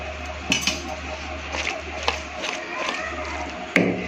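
Soya vadi pulao with fresh coriander being stirred in a cooking pot, giving a few scattered metallic clinks and scrapes of a spoon against the pot over a low steady hum, with no talking.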